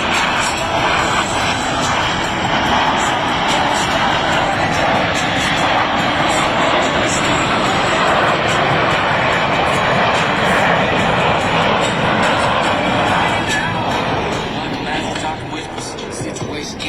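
The Blue Angels diamond formation of jets roars past at an air show, a loud steady engine rush filling the whole stretch before easing slightly at the end.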